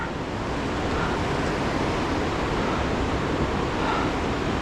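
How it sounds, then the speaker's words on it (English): Rushing river water at Cucumber Rapids, Ohiopyle, a dense, steady broadband roar of water over a boulder field at about 7 to 8 feet, constant and unbroken throughout. "This is all Cucumber Rapids."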